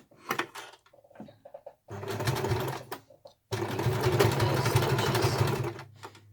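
A sewing machine stitches a thick fabric glasses case in two close bursts, a short run and then a longer steady whir, separated by quiet pauses with light handling clicks.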